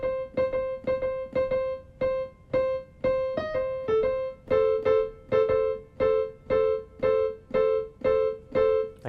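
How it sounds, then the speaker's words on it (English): Jazz piano lick in the style of a jazz pianist, built on repetition and thirds: a steady stream of about twenty crisp, evenly spaced notes hammering the same pitches, solo and close with a bouncy rhythm. "Lick number 3 uses repetition and sounds like this."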